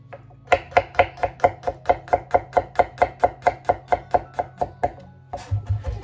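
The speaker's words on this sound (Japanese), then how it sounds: "続いてニンニクをみじん切りにしていきます。" Garlic cloves being finely minced with a knife on a cutting board, about twenty crisp, evenly spaced chops in a fast steady rhythm, close and clear without talk.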